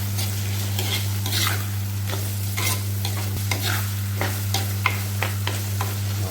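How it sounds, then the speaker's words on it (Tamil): Potatoes and onion frying in oil in a pan for a Tamil boiled egg curry, giving a steady sizzle with repeated scrapes and clatters of a stirring spoon, close and moderately loud, with a low hum underneath throughout. "அப்போது இந்த உருளைக்கிழங்கு கொஞ்சம் நல்லா வெந்துடும் சாஃப்டாக இந்த எண்ணெயிலே"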